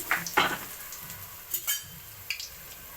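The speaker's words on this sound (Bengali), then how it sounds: "আমি এখন এভাবে ভেজে নেব খুব সুন্দর করে ফিশ বলগুলো" Fish balls coated in gram flour batter fry in hot oil with a soft steady sizzle, broken by a few brief clinks and scrapes of a utensil against the pan, close and fairly quiet.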